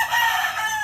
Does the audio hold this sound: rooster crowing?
yes